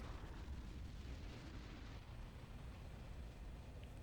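A rumbling explosion in the real-time tactics game Ground Control on hard difficulty, as a sustained low, muffled roar that fills the clip at moderate volume with no talk over it.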